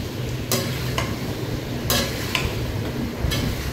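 A marinated mixture fries on a high flame while it is stirred constantly, giving a steady sizzle broken by several sharp scrapes of a spoon or spatula against the pan.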